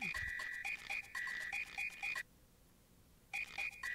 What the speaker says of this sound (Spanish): Toca las notas saltando entre las ranas.